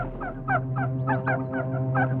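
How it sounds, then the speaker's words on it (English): Geese honking in a steady series of calls as they migrate north over a beaver swamp, several birds overlapping at moderate distance with a low steady hum beneath. "Only sign of animal life was the geese migrating north for the summer."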